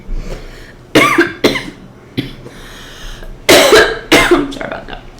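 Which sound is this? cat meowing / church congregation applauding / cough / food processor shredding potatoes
cough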